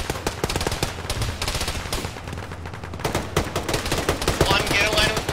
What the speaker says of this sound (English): EI shooting us from the east.